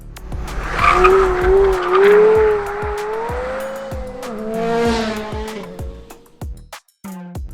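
A Porsche Carrera GT slides on a wet track, its engine revving and wavering with tyres squealing as the car drifts, loud and close, then the revs drop away near the end.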